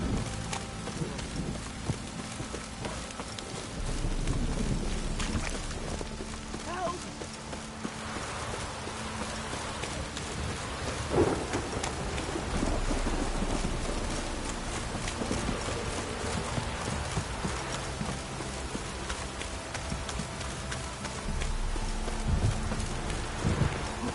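Rain falls in a PS4 video game as a steady, even hiss of downpour lasting throughout, with occasional soft thuds and footstep-like clops mixed in under it.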